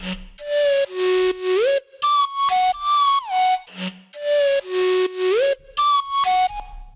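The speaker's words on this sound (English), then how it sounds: "the white noise layer supports this flute" A bright synth flute lead plays a stepping, gliding melody in short phrases, with a soft breathy noise layer underneath.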